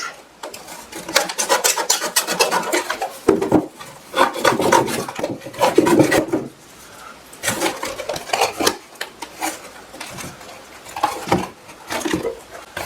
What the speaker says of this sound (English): We're going to cut a little divot out of our box.